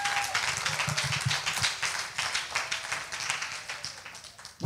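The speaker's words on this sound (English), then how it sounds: "Can we give the Lord a clap offering, please?" A church congregation claps together, a dense, steady patter of many hands filling the room at moderate loudness for several seconds.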